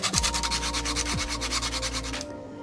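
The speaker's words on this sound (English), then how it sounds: "So sandpaper will have to do the trick." Sandpaper rubs rhythmically over a Baby Yoda figure, about a dozen quick, even back-and-forth strokes, close and fairly loud, with a steady low hum underneath, stopping abruptly near the end.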